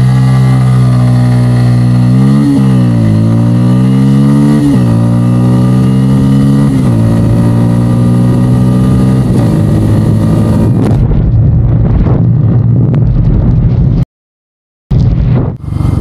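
A Bajaj Pulsar N motorcycle accelerates hard from a standstill toward 100 km/h, its engine note climbing and falling through several gear shifts, loud and close under heavy wind noise, then cuts out abruptly near the end.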